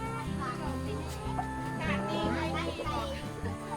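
Backyard laying hens and village chickens cluck and cackle steadily at a rural rubber-plantation farm, the clucking fairly close and continuous amid busy mixed farmyard noise.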